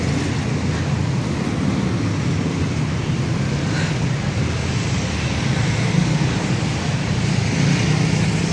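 Busy city street traffic on a hot morning, a steady broadband roar of engines and tires with passing vehicles continuous throughout, no talk over it.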